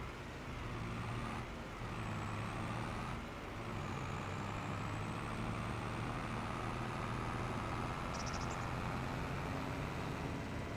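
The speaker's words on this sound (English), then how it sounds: "the little Mercedes that sounds awesome is this tractor" Mercedes tractor engine in Farming Simulator 25, a steady low diesel drone with gentle rises in pitch and a high whine above it, continuous and fairly close.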